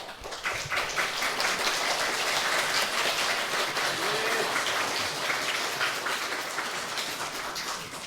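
A church congregation claps to welcome a visiting professor, a moderate, steady patter of applause rising quickly and sustained evenly, slightly fading near the end.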